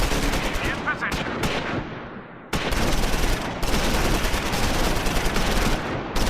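Sustained gunfire in a Close Combat 4 Battle of the Bulge engagement, rapid machine-gun bursts and rifle shots crackling loud and dense, briefly easing before resuming heavily.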